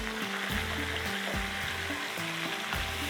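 A spatula stirs red chili powder and coriander in a hot pan, a steady close sizzle of frying with repeated scraping strokes in an even rhythm.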